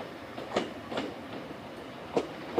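Greater Anglia Class 321 empty stock train moving slowly at Southend Victoria, giving a few soft, spaced wheel clunks over rail joints at low volume, with no voices.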